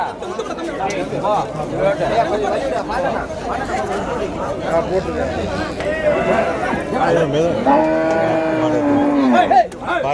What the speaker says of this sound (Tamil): மாடு